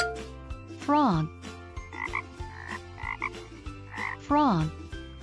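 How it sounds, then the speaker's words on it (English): A frog croaks in a run of short repeated pulses, with two sliding chime flourishes from a children's animal puzzle before and after. "Frog."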